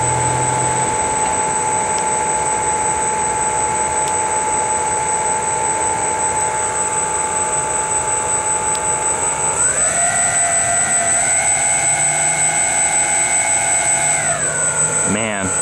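A giant Spruce Goose R/C model plane motor idling on a test stand, a steady loud whine with sharp tonal lines, shifting in pitch as the throttle changes partway through, then settling back down.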